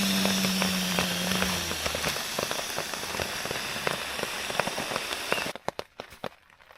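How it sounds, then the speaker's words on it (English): Torrential rain drums hard on a tent during an overnight hike, a dense loud patter of close drops that drops off abruptly near the end, leaving scattered faint drips. "It is just raining."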